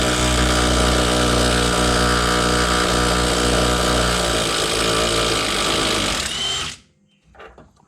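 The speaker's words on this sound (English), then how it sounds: "Let's break these loose and then we can use the gun from underneath and get it going." An impact gun runs loud and continuous while loosening 13 mm bolts beneath an F-body Camaro during fuel tank removal, holding a steady buzzing roar for about six seconds before cutting off abruptly, with a faint clatter afterward.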